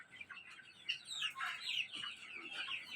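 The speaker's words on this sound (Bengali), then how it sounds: "এই যে মুরগি, আর এই হলো মোরগ" Tiger breed chickens and a rooster clucking, with a string of short, sharp calls at moderate distance coming in irregular bursts over quiet background, with no talking.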